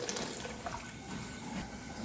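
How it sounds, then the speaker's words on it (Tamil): About 150 ml of fresh coconut water, from grated coconut, pours into a pot of wedding-style Tamil rasam, a faint steady trickle and splash with light background noise. "அப்படி நூற்றம்பது மில்லி அளவுக்கு தேங்காய் தண்ணி சேர்க்குறோம்"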